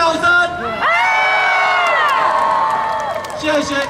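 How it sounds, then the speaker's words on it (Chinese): Concert audience at a band's final performance shrieking and whooping in a high pitch, a loud, sustained burst of crowd screaming that swells and fades over a few seconds. "再来一次高八度的尖叫声"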